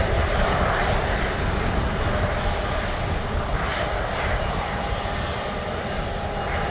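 A heavy Airbus A330 jet comes in to land at Orlando airport, its engines a loud continuous broadband roar that holds steady and close throughout, with no talking.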